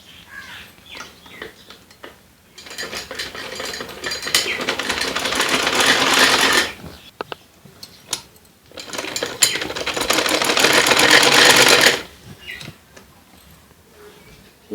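A sewing machine stitches elastic into children's shorts in two long, loud runs of rapid mechanical whirring, separated by quiet pauses with small handling clicks.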